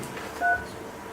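A single brief two-tone telephone keypad beep sounds once, faint against a room's background hum, during a call being placed at a meeting.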